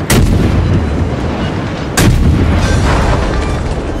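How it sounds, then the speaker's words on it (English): Naval guns fire in a World of Warships sea battle. Two heavy, booming salvos land about two seconds apart, very loud and close over a steady rumbling roar. "they're firing at me now"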